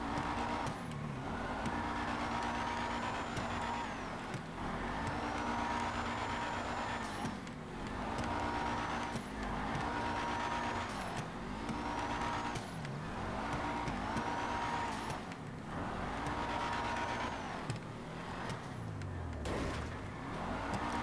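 Car engine in GTA 5 Online on a short custom drift track, droning loudly and steadily with repeated rising and falling revs and tire squeal as it drifts and jumps, filling the whole stretch with no talk.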